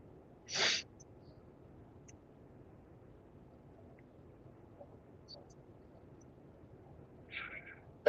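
A single short sneeze bursts out near the start, followed by a long stretch of quiet room noise with faint clicks and a brief soft sound near the end.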